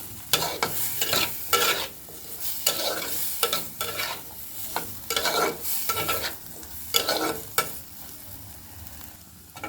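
Chickpeas with green chili stir-fried in a pan: repeated sharp scraping strokes of a spatula against the pan over a steady, close sizzle, with no talking.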